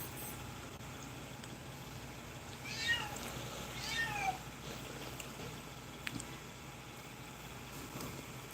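A cat meows in the background, two or three faint rising meows over low traffic-like rumble, distant and indoors.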